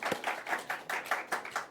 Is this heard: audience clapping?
yes